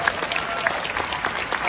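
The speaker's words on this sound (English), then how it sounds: "yeah, you can clap, for that." Audience applause with scattered whoops from a crowd at an aquarium event, steady clapping at moderate volume with a few sharper individual claps standing out.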